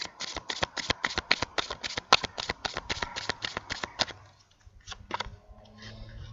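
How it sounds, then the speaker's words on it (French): Small oracle cards being shuffled by hand: a quick, even run of crisp riffling snaps for about four seconds, close and clear, followed by a few softer card taps. "je vais continuer avec des petites cartes oracles"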